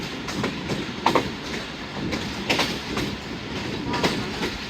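Rehman Baba Express passenger train running from Peshawar Cantt toward Attock City, a steady rumble of rolling wagons with periodic clattering wheel beats over rail joints, recorded close from inside the moving train.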